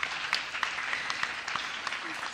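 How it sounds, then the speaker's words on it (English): Applause for a Paralympic swimmer at a women-in-sport event: a steady wash of many hands clapping fills the room, moderately loud and continuous, with scattered sharper claps and a faint voice underneath. "Round of applause, please, for Susie."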